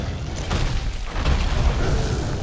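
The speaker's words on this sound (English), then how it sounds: "Oh no, there was another bomb." A bomb goes off in Monster Hunter World, a dull low rumbling boom that swells and lingers for a couple of seconds at moderate volume amid battle noise.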